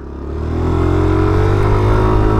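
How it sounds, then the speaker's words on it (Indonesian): A Yamaha NVX V2 scooter engine revs up loud and close, its pitch climbing steadily as it accelerates toward top speed. "Kita try tengok berapa top speed paling tinggi yang motor ni boleh dapat."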